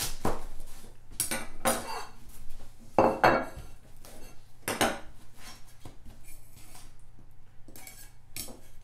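A knife cuts a slice of homemade pizza on a plate, giving repeated sharp clinks and scrapes of metal on ceramic over a steady low hum.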